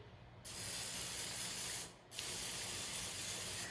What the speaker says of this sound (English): I am just gonna spritz them with a little bit of oil with our kitchen spritzer